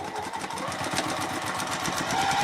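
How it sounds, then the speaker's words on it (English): A sewing machine runs continuously, stitching a quarter-inch seam down a pillowcase: a steady, close mechanical whirr with a fast rhythmic needle chatter and no pauses or talk. "Now I'm going to stitch all the way down with a 1/4 inch seam."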